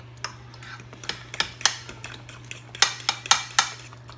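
A fork stirs a bread flan mixture in a dish, with sharp irregular metallic clinks and taps against the bowl, close and clear over a low steady hum.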